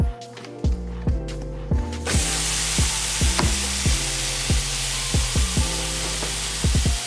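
Ground turkey drops onto a hot plate set to 450 degrees and sizzles loudly and continuously, with repeated sharp scraping and tapping as it is broken up in the pan.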